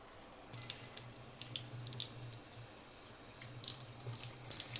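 Water runs at a kitchen sink as a still-warm non-stick cooking pan is rinsed and scraped clean, a steady low trickle with faint scraping and splashing clicks over it, fairly quiet and with no talking.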